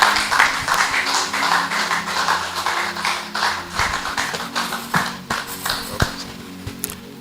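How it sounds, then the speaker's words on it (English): An audience claps at a keynote address at an art exhibition, steady close applause with sharp individual claps that thins out toward the end, with no talk over it. "Please keep clapping till he mounts the lectern."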